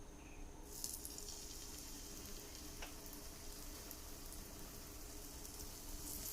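Masala-coated eggplant slices fry in oil in a pan with a steady, close, continuous sizzle and crackle, a brighter hiss rising after the first moment, with no talking.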